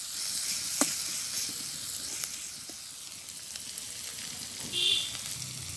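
Onions frying in a pan, a soft steady sizzle and hiss with a few faint ticks and a brief louder crackle near the end, quiet and close, with no talk.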